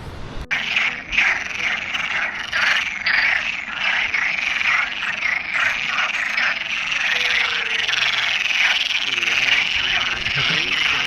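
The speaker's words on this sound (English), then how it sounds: "it's a bunch of frogs. Can't really see them very well, but there's so many of them down here in the stream." A large chorus of frogs croaking in a stream along the Portuguese Camino de Santiago, a loud, dense, continuous pulsing croak filling the whole stretch, close and unbroken.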